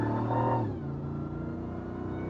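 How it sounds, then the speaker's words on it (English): A supercharged Ram TRX truck engine revs briefly and loudly, then drops back to a lower, steady idle. "So does Baja mode pump in more supercharger noise in the cab?"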